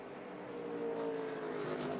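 A NASCAR Nationwide Series race car screams around Phoenix during final practice, its engine a steady high-pitched drone that rises slightly as it passes, distant and continuous.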